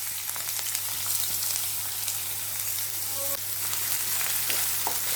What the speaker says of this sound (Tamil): வெங்காயத்தை நல்லா கிளறி விடுங்க.